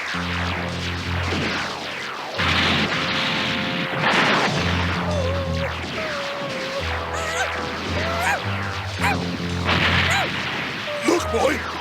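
Fireworks bursting in a Dragon Ball Z video game: a steady run of booming, crackling blasts over game music and character voices, loud and close throughout.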